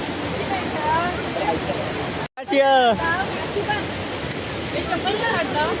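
Constant loud roar of a waterfall in Rajapur, Konkan, rushing nearby, broken by a brief cut, with faint voices talking under the water noise.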